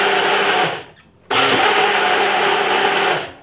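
A kitchen blender whirs loudly while blending a strawberry smoothie, briefly cutting out near the one-second mark before the dense motor roar resumes at full strength and runs steadily to the end, with no talking.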